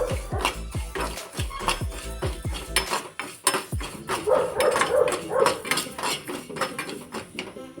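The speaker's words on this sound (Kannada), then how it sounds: "1-2 ಸ್ಪೂನು ಅಕ್ಕಿ ಮತ್ತು ಲವಂಗ ಹುರ್ಕೋತಾ ಇದ್ದೀನಿ" Rice and cloves are dry-roasted in a pan on a stove. A spoon scrapes and clatters against the metal in quick, rhythmic strokes, with deep thumps early on and busier, close stirring noises after.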